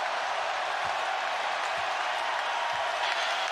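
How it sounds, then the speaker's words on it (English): A basketball arena crowd at a Lakers game in the fourth quarter, on its feet and roaring, a dense, continuous wash of cheering and applause at steady loudness. "Crowd on its feet."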